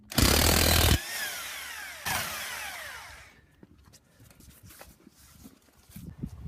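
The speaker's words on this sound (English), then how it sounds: "we're going to hammer the knuckle right here so that we can dislodge the ball joint" Two loud bursts of rapid metallic hammering on a Buick Rendezvous steering knuckle to free the ball joint, close by, each lasting about a second, followed by quieter clatter and background noise.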